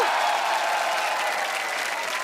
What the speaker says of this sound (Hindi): एक बार जोरदार तालियां हो जाए पूरे दिल्ली वासियों के लिए।